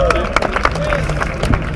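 Scattered hand clapping from a small audience at a gaming talk, with sharp irregular claps mixed under a man's ongoing speech and crowd murmur.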